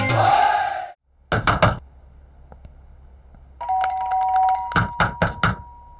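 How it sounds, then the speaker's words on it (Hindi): A doorbell chimes twice in separate bursts, close and clear, with a low room hum between rings and no talking. "मैं बजा रहा हूँ ना घंटी।"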